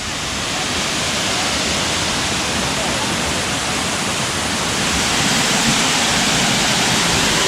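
A loud, steady roar of falling water from the nearby Triple Waterfalls at Nariyampara fills the whole clip, constant and broadband without any break.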